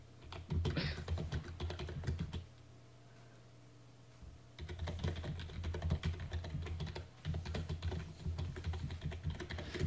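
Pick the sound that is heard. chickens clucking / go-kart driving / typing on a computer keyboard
typing on a computer keyboard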